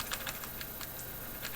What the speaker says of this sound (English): no bump when pressing and also no click.